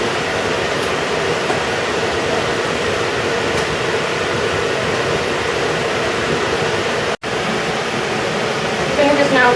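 Vinegar and sugar heated to a light rolling boil in a pan for pickling cucumbers, a steady loud hiss and bubbling roar that holds evenly throughout, briefly cut out once near the end.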